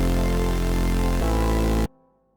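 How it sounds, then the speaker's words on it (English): Serum synth bass built from saw waves, a sine sub and white noise crushed with distortion, a loud buzzing sustained tone that shifts pitch once and then cuts off abruptly into near silence. "We're going to go to effects and add some distortion to crush the noise in the saw together."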